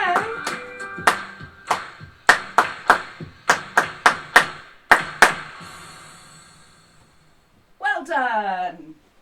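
Children in a primary music lesson clap their hands in a crisp rhythmic pattern of sharp, close claps, then a voice speaks briefly after a pause.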